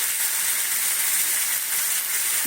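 Turmeric masala frying for ghugni, with potatoes and a little turmeric in the pan, giving a steady, bright, close sizzle and hiss that runs unbroken throughout, with no talking.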